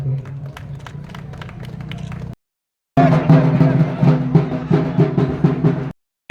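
An audience claps at a Durga Puja club inauguration, a burst of applause and crowd noise, then a short silence before a louder, fuller round of clapping with babble and some speech mixed in.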